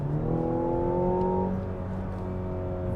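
A 2025 Mazda CX-70 plug-in hybrid SUV engine revs hard under acceleration and climbs in pitch for about a second and a half, then settles into a steady, loud drone close by.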